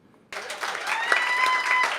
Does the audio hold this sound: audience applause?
yes